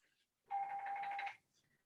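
A mobile phone rings once in a quiet room, a short warbling electronic tone lasting under a second, moderately loud and alone.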